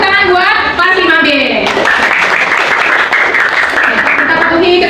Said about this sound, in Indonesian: tepuk tangan buat kelas 5B